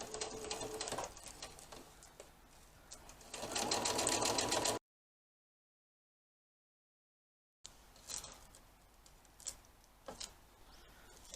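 Domestic sewing machine stitching Velcro onto baby doll pyjamas, a fast close rattling hum in two runs separated by a few seconds of silence.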